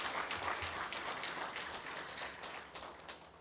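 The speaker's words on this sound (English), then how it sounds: "Can we please give the Executive Director of NIPAM a proper round of applause?" Round of applause for an executive director at a public sector awards ceremony, dense steady clapping from a crowd that fades slightly toward the end, heard at a moderate distance without talk.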